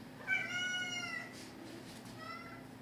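A cat meows clearly and fairly close by in a home, one drawn-out high call followed by a softer, shorter meow after a pause, with no voices over it.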